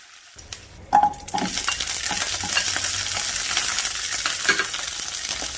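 Small onions (shallots) sauté in a pan for a village-style prawn curry. A steady, close sizzle with stirring scrapes follows a brief clatter near the start.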